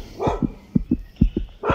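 Several dogs bark in short, sharp bursts outdoors, a run of about six close barks with a louder final yelp, nearby and fairly loud with no talk over them.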